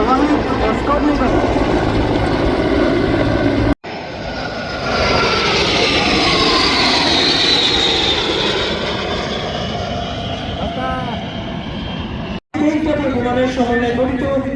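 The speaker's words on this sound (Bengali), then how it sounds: "এবার এগিয়ে আসছে সেনাবাহিনীর পতাকা বহনকারী হেলিকপ্টার" An army helicopter carrying a flag flies past at a national Independence Day parade ground, a loud, sustained engine roar that swells and sweeps as it passes, with a commentator speaking over it.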